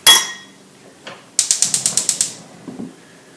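A fork whisking eggs in a bowl gives a quick run of eight even, bright clinks, each tapping against the side, with a louder knock at the start and a soft scrape near the end.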